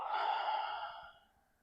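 A long, breathy exhale during a yoga exercise, loud at first and then trailing off softly over about a second and a half, with no talking.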